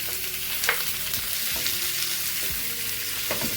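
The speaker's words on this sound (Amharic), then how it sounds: "ሽንኩርቱን በደንብ ጥብስ እናደርገዋለን።" Onions frying in oil in a pan, a steady close sizzle with occasional stirring scrapes, no talking.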